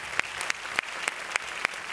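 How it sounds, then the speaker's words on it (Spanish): Sparse, faint applause from a TV talent show audience after a sung battle round, heard as a handful of separate claps spaced at a steady rhythm rather than a full ovation. "aplauso para ellos"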